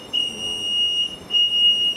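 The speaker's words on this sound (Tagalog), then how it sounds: "you have to stop the alarm" A building fire alarm sounds continuously as a steady, piercing high-pitched electronic tone, loud and close, with faint background noise and no talking.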